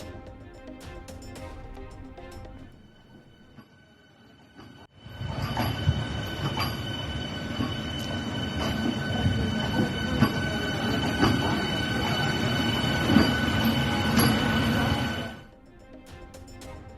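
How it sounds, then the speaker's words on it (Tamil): An electric AC suburban train on a test run at Tambaram depot rolls past, its rumble and rattling wheels rising suddenly, holding steady for about ten seconds, then cutting away to quieter background. "தாம்பரம் பணிமனையில் ஏசி புறநகர் ரயில் சோதனை ஓட்டம்."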